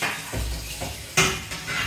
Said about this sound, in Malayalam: അടുത്ത പാത്രം എടുത്ത് കഴുകണം